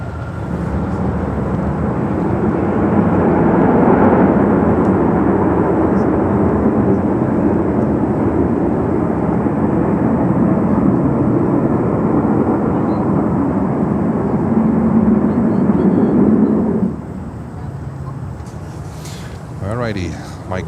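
A landing airliner at Miami International Airport roars under reverse thrust, a loud, sustained broadband rumble that holds for about seventeen seconds and then drops away to a quieter engine whine.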